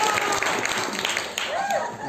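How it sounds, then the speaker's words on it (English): A church congregation claps during a sermon service, a short burst of dense applause that stays fairly loud throughout, with a voice and a faint sliding tone heard partway through. "Let's give her a better round of applause"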